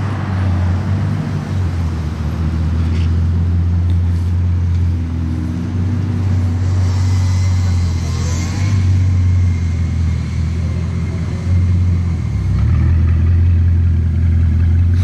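A Bugatti Chiron engine runs as a deep, loud rumble held close by, with its tone rising and falling gently as it revs.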